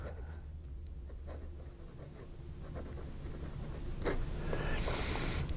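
A Jinhao 51A fountain pen with a smooth nib writes on paper, giving a soft, steady scratching that runs the whole time and gets a little louder toward the end, with faint bumps in the background.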